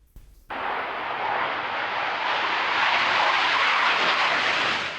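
An F-16 fighter jet roars past after a brief quiet start, its loud broadband engine rush holding steady and building slightly for several seconds, with no voices.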